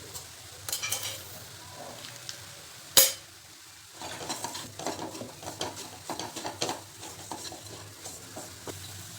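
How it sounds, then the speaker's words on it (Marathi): A carrot mixture with sugar and desiccated coconut stirred in a pan, a spoon scraping and tapping the metal in soft, uneven strokes with one sharp clank, quiet and close. "साखर विरेपर्यंत आपल्याला ह्याला मिक्स करून घ्यायचे"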